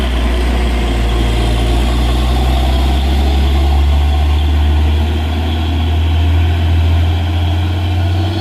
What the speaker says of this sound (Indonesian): ini unit truk Fuso intercooler ya teman-teman